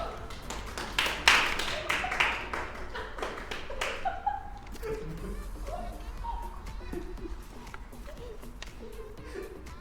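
An audience claps to welcome two presenters onto the stage at a celebration event with a prize draw, a burst of applause in the first few seconds that thins into scattered clapping under crowd chatter and talk.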